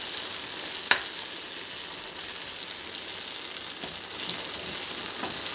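Potatoes frying in a covered pan for a soft potato fry, a steady, moderately quiet sizzle with occasional sharper pops and crackles.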